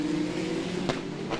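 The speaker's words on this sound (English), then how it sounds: "watching the cars accelerate away" FR World Cup race cars roar and accelerate at the Macau Grand Prix qualifying session, a steady loud engine drone with a car passing briefly near the end.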